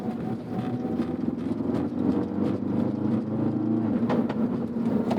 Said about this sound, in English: Man, these pops and bangs though.